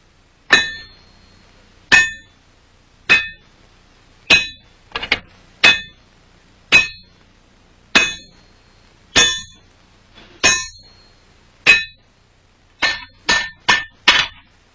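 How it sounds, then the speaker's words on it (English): A smith at a forge in colonial Williamsburg hammers a hot bar of solid wrought iron into a flat, tapering scalp. About a dozen loud, ringing metallic blows land close by at a steady pace, quickening into a rapid cluster at the end, with no voices. "Here he will heat and hammer a bar of solid wrought iron into a flat scalp"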